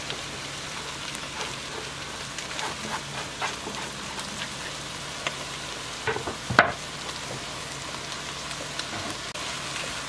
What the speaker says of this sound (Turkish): kapağını kapatarak biraz kavrulması için bekleyelim